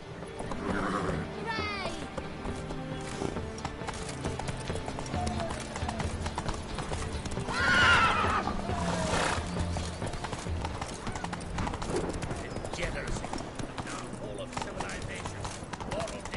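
Hooves clip-clop rapidly as the horse Roach gallops in The Witcher 3, a steady, close drumming with occasional snorts, while a person talks over the action.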